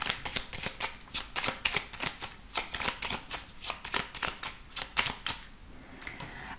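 A 32-card deck of playing cards being shuffled by hand, producing repeated crisp riffles and soft slaps in a steady, quick rhythm, close up and alone without speech.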